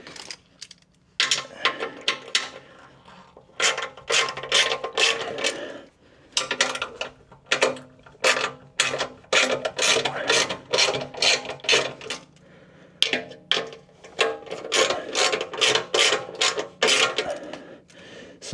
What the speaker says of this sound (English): Let's remove the 2 bolts.